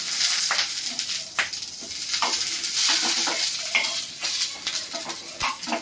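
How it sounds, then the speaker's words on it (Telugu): Three green chillies sizzle in hot oil with curry leaves already fried in the pan, a steady close crackle broken by occasional stirring scrapes. "తర్వాత 3 పచ్చిమిరకాయలు వేయించుకుంటున్నాను."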